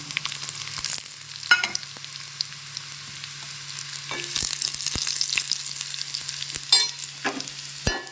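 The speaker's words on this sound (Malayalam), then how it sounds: "അപ്പോൾ നമുക്ക് ഇതിലേക്ക് ഉണക്കമുളക് ഇട്ട് കൊടുക്കാം കേട്ടോ. അത് കഴിഞ്ഞിട്ട് നമുക്ക് കറിവേപ്പില കൂടെ ഇടാം." Dried red chillies and curry leaves frying with onions in a Kerala kitchen, giving a bright crackling sizzle close by, with repeated sharp clicks and scrapes of stirring over a low steady hum.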